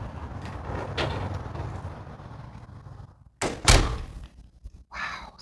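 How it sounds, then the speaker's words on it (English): A door is shut indoors, ending a steady background noise with a loud, close thud and a brief rattle, after which the room goes much quieter. "I need to shut this door because it is making a lot of noise."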